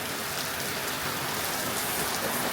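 Heavy rain pours steadily during a rainy season storm, a dense, constant hiss of drops hitting surfaces with no pauses and no voices.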